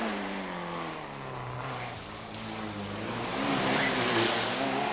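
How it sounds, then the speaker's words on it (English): A Nissan Sunny GTI-R rally car runs a stage at the 1992 Rallye des Hautes Fagnes, its engine droning and shifting pitch as it passes, fairly distant and steady, swelling louder toward the end. "the Nissan Sunny GTI, GTI-R, I should say, they're sorting out the problems with it, and it's going really quite nicely at the moment"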